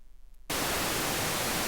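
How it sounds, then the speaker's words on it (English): A brief quiet lull, then a sudden burst of steady, full-spectrum pink noise from the Alpha Ray synthesizer, soft and rushing, holding evenly and loud to the end. "and pink noise"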